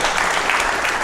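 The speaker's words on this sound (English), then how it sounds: "That's another round of applause." A brief burst of dense clapping from the audience at an AI meetup, loud and close, a continuous patter of many hands without pause.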